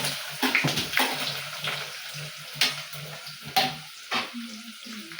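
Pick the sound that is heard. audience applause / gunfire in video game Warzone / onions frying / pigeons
onions frying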